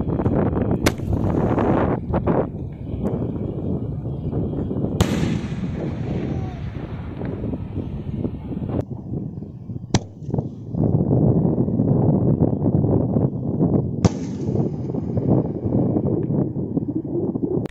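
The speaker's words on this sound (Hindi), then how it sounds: "गाइस इग्नाइट करते हैं कोक के big sky shot peony birds को, देखते हैं कैसी इसकी परफॉर्मेंस रहती है" Coke brand Big Sky Shot Peony Birds sky shot firework going off outdoors, with several sharp bursts and bangs spread over a steady rush of wind, some cracks sounding distant.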